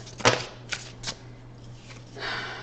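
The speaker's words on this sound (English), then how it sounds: "I just shuffled." Tarot cards are shuffled with a few crisp riffling flicks and soft slides, close and fairly quiet, over a steady low hum, with no talking.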